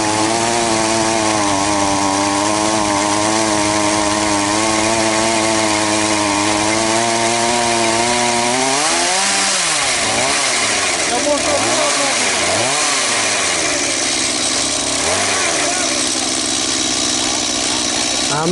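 A small two-stroke motorized ice auger engine runs steadily and loud at an outdoor winter fishing spot on a windy day, its pitch wavering and dipping as the drill struggles and fails to bite, with voices talking over it.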